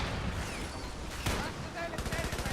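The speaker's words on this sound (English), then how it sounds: "mortar landed right on that guy" A mortar shell lands in the video game Men of War: Assault Squad 2, a single booming impact cutting through ongoing battle noise and scattered gunfire, followed by rapid rattling fire.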